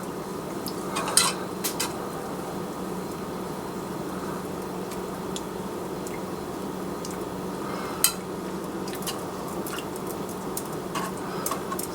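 A spoon stirs melted butter and milk in a pan for an egg custard pie, giving soft continuous scraping over a low kitchen hum, with a few sharper clinks against the pan and no talking.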